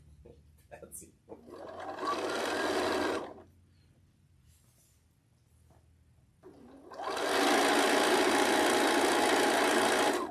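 A sewing machine stitches a seam in two bursts of rapid, steady whirring, the second longer, separated by a pause with soft handling noises. Someone talks briefly at the start.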